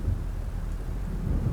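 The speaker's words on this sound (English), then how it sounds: "It seems there's a storm coming." A thunderstorm rolls in within the video game Alan Wake, a deep, continuous low rumble of thunder mixed with steady rain noise, heavy and close throughout with no voices.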